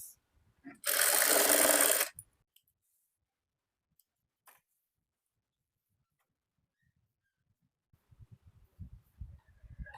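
Sewing machine stitching a maggam work embroidery blouse, heard as a single loud burst of running stitches lasting about a second, followed by near silence and a few faint soft knocks.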